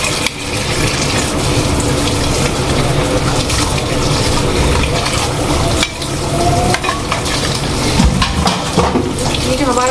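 Tap water runs steadily into a kitchen sink during dishwashing, a loud, continuous splashing rush with clinks and scrapes of utensils over it; a brief dip midway, then the flow resumes.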